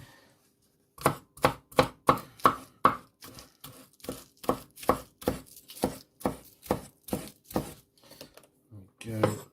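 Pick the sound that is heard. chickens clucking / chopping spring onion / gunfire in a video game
chopping spring onion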